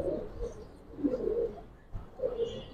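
Pigeons coo softly in a loft of old-breed Giribaz and Pagla Khaki pigeons, a few low burbling calls in short bursts with brief pauses, fairly close and moderately quiet.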